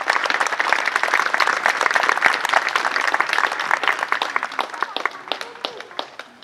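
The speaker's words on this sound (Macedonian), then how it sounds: "Ќе ве замолам за еден аплауз за сите спонзори." Crowd at a memorial small-football tournament applauding the sponsors, dense clapping from many hands that thins toward the end into scattered claps.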